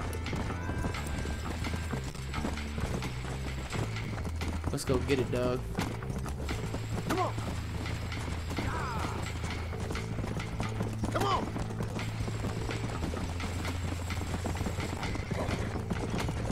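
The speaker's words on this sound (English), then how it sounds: "Get on your horse." Horse hooves clip-clop steadily in the Red Dead Redemption video game, a brisk rhythmic trot running throughout with occasional neighs and mechanical clicks, while someone talks over it.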